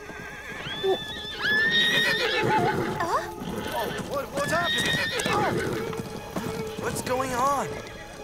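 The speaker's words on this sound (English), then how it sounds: "Something scared the horses and they're loose." Horses whinny and neigh several times amid hoofbeats and a busy commotion, with people talking and shouting over the loose, excited animals.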